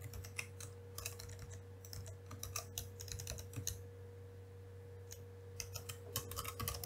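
Steady computer keyboard typing, clicks coming in quick irregular bursts over a constant low electrical hum, close by and with no voices.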